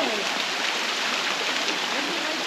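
A waterfall pours into thermal hot-spring pools on Sao Miguel in the Azores, a close, loud, steady rushing roar of falling water that fills the whole clip without a break.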